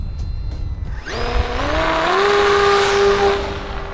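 An electric FG-1 Corsair RC model airplane, foam EPO with a 990mm wingspan, is hand launched and its motor and propeller rise into a steady whine that climbs in pitch and holds at half throttle, loud and close with no talk.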